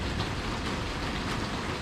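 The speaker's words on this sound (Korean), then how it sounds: "비가 오고 있습니다." Steady rain falling in Ayutthaya, Thailand: a dense, even hiss of drops with no pauses and no voices.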